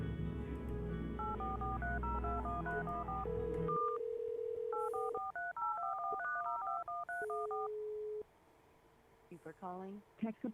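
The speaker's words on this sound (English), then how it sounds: "Once 8, 9, and 10 start dialing, I'll hang up 1 through 5 and then hit redial." Telephone DTMF dialing tones play in quick melodic bursts from auto-dialing bots calling scam lines, with a steady hum, a sustained tone, and other overlapping phone sounds, clear and close.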